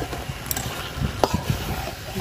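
Fish offal dropped into hot oil in a pan, a soft sizzle with scraping and stirring clatter, a few sharp utensil knocks, close up.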